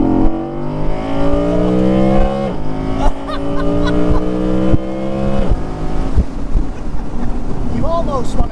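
An Audi sports car engine revs hard nearby, right behind the seats, its pitch climbing and dropping back through several quick gear changes, with wind rushing underneath.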